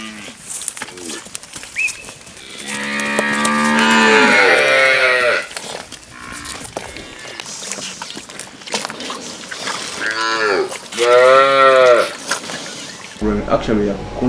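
Boran Ankole cross beef cattle moo on a ranch, with two long, loud, drawn-out calls close by and lowing in between, while a person talks at times.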